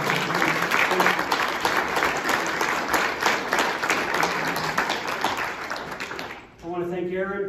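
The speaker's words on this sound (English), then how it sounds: "I just want to say an excellent round of applause" Hall of Fame induction audience gives the inductees a strong round of applause, dense and steady clapping that fades out near the end before a voice begins speaking.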